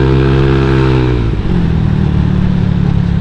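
A modified scooter engine revs sharply, its whining pitch rising quickly before dropping off and settling into a steady, loud drone, close by during stop-and-go riding.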